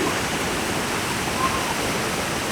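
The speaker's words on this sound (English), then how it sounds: "But look at this beautiful waterfall." A local waterfall at Jamao al Norte, Puerto Plata, Dominican Republic, making a steady, dense rushing roar of falling water, loud and continuous throughout.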